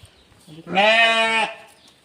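A ewe from a Nari Suvarna sheep flock gives one loud, close, wavering bleat lasting under a second, with faint background noise before and after.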